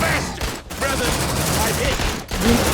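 Gunfire from squad weapons in the Aliens: Dark Descent video game, a dense continuous rattle of shots with short breaks, mixed with chaotic game noise and someone talking over it.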